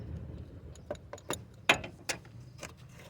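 Ratcheting, clicking adjuster on a Toyota car's drive belt being loosened by hand, a sparse run of sharp metallic clicks and ticks close up over a low hum, with no talking.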